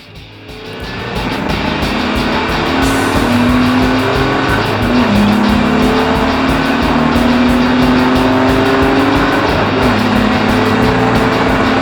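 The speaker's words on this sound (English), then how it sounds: "threw it into the chicane with as much gusto as I could muster, got a decent exit" A Jaguar race car laps the Donington circuit with a loud, close engine note that rises steadily through the gears, sustained and unbroken, with no talk over it.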